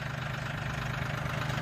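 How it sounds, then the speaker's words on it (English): A small tractor engine idling in gear, a steady low, even hum with a faint regular pulse, close and alone throughout. "It's a great tractor to learn how to drive a tractor on because once it's in gear,"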